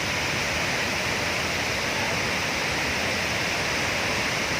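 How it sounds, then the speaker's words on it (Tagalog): Lake Sebu waterfall in South Cotabato roars as a steady, dense rush of falling water, loud and unbroken throughout with no voices. "Lake Cebu Waterfall. Dito lang po sa South Cotabato."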